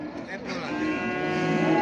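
Cattle at a livestock market in Çorum, Turkey, with a close, drawn-out moo rising over faint market background noise.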